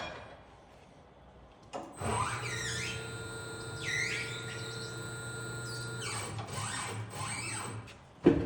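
Tire changer machine rotating a wheel to dismount the tire's top bead, a sustained mechanical whine with steady tones and squeaky rubbing chirps, starting after a quiet lead-in and ending with a clunk.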